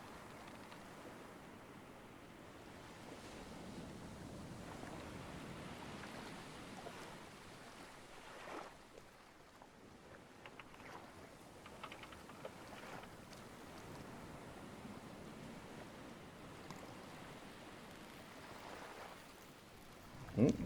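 Ocean waves wash steadily around a small raft at sea in the survival game Stranded Deep, a soft continuous surf and wind hiss with occasional swells, fairly quiet and without talk.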